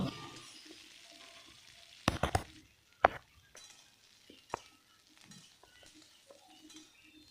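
Cauliflower, soybean chunks, capsicum and onion fry together in a pan under a low sizzle, with several sharp spatula clanks and scrapes against the metal and a few quieter clinks, no voices.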